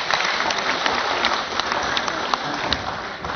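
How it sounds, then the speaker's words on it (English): An audience at a real estate practitioners' oath-taking event in Cebu applauds, a dense, continuous clapping from a sizable indoor crowd with sharp individual claps popping out, steady for several seconds. "A round of applause, please."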